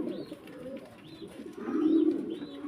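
Pigeons on a pigeon farm coo in low, throaty repeated calls. A few higher chirps from other birds sound in the background, and the cooing swells louder toward the end with no speech.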